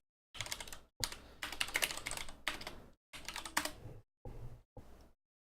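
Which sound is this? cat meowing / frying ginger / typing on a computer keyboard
typing on a computer keyboard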